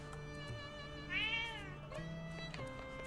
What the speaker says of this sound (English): So they have a lot of cats here